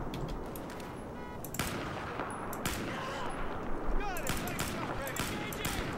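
Rapid automatic gunfire from the video game Battlefield 4, with repeated bursts of shots through a dense, noisy firefight and a voice talking over the action.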